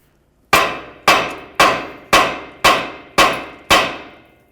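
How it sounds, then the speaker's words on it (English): A hammer strikes the control arm of a 2012-2016 Subaru Impreza seven times at a steady, even pace, each blow a sharp metallic knock that rings out and decays. The blows are close and loud, with no one talking. "Instead, we'll just use a hammer, cause some vibration along this area of the control arm."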